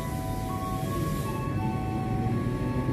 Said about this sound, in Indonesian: Kereta api lokal dengan posisi lokomotif LH persiapan masuk stasiun Kerenceng.